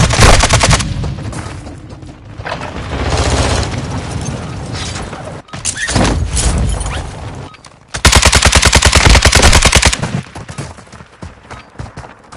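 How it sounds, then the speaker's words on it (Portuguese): Call of Duty gameplay fills with loud, close bursts of rapid automatic gunfire and single shots, broken by short pauses and a dense sustained volley near the end. "Estão atirando em mim!"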